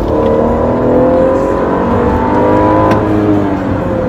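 A 2016 BMW X5 xDrive 35i SUV of about 300 horsepower accelerates hard from inside the cabin, its engine note loud and steadily climbing through the gears with no talk over it.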